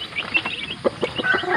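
Gamecock roosters at feeding time cluck in short, scattered, fairly soft bursts over a steady background hiss, several calls overlapping irregularly with no talking.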